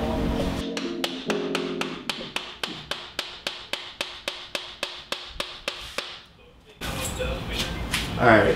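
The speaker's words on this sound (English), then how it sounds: "I'm gonna be using this and a hammer" About twenty sharp metallic hammer strikes land in a steady, even rhythm while hammering a nut out of a dirt bike engine, each ringing briefly, followed by a pause and then a burst of clattering noise.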